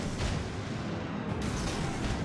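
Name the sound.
warship gunfire in video game World of Warships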